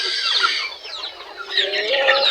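Large turkey breeders on a farm call out in a dense, continuous run of high, warbling clucks and gobble-like notes, close and fairly loud, with no talking over them.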